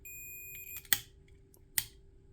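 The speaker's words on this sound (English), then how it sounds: "I get the beep with the probes indicating that it's working." Two short electronic beeps from a multimeter continuity test on a light switch, spaced about a second apart, each with a sharp click-like onset, over a quiet steady hum.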